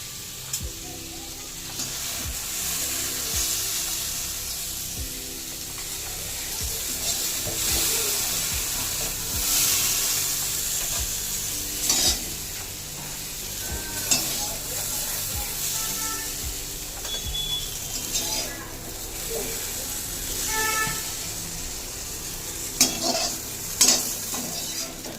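Okra sizzles steadily in hot oil for a Bengali shukto while a utensil scrapes and stirs the pan, with intermittent clinks and scrapes as the fried pieces are lifted out, close and continuous.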